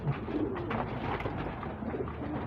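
Racing pigeons coo softly in a loft, with repeated low throaty calls overlapping one another at close range and no talking.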